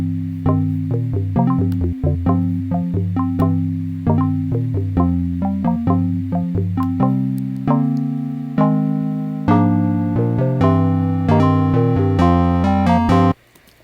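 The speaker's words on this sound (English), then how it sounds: "This is an interesting synth that I built in Massive." Pre-chorus synth patch built in Native Instruments Massive for a cover, playing a steady rhythmic line of bright, harmonically rich chords that grow fuller and busier toward the end, loud and without voices.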